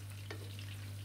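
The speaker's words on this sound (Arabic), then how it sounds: "مرت معانا كده الكوسه في الزيت زي ما هو" Zucchini slices frying in oil for Egyptian moussaka, a faint, steady hiss over a low hum, with one quick stir or clink partway through.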